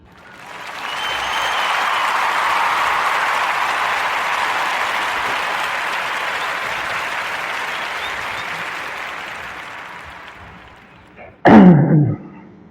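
A studio applause sound effect on a podcast swells in, holds as full, even clapping, and fades out, followed by a brief sharp thump near the end.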